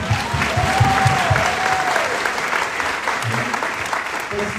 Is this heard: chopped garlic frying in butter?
no